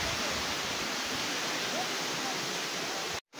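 Kakawayan Falls in Infanta, Quezon gives a steady, broad rush of falling water that stays even throughout, then cuts off abruptly at the very end.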